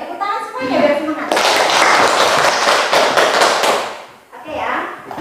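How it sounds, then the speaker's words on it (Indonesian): A school class claps hands together in a burst of rapid, loud applause lasting a few seconds, preceded and followed by a teacher speaking. "tepuk tangan semuanya biar semangat."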